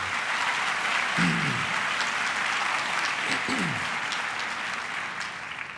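Professors standing outside at an autumn university graduation ceremony applaud arriving graduates, a sustained crowd of clapping with a couple of brief sliding tones rising above it.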